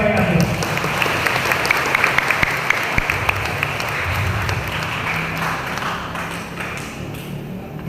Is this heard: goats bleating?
no